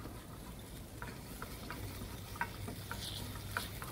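Water goes into a hot pan with instant noodle stroganoff, giving a soft steady sizzle with scattered ticks and scrapes of stirring at close range.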